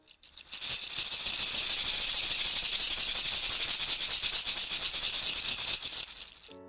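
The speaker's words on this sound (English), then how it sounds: "This is a shekere, a beautiful instrument from Africa that makes a sound like this." A shekere, the African beaded gourd rattle, shaken steadily for about six seconds, giving a loud, close, continuous bright rasping rattle with a fast pulsing rhythm and no voices.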